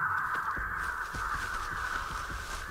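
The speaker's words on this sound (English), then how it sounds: "Oh no, there's a bird!" A crow caws in the Dead by Daylight video game, harsh repeated calls over a steady droning game ambience with soft thuds beneath.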